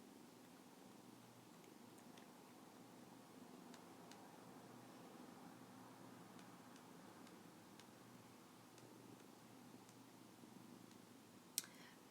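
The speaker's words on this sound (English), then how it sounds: "Oh, listen to those purrs." Continuous soft, rumbling purr from a foster kitten close by, steady throughout, with a few faint clicks and a small tap near the end.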